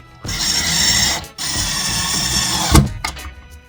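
A power driver whirs in two short bursts while screws go into a soft-close cabinet hinge on an old cabinet, close and loud, followed by a brief clatter.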